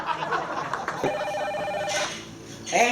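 A mobile phone rings in a classroom with a repeating electronic ringtone, loud and close, while people talk over it.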